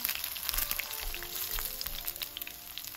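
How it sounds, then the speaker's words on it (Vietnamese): Chicken stir-frying in oil in a pan for Hong Kong-style chow mein, a steady close sizzle and crackle running throughout without pause, with no voices. "Rồi sau 5 phút mình xào thịt gà trên bếp nha các bạn."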